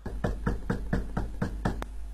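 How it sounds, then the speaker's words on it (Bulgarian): Repeated heavy knocks and bangs on a door, about eight evenly spaced blows in a steady rhythm, loud and close, with no voices. "Всеки петък ли ще идваш тука да домкаш по вратите?"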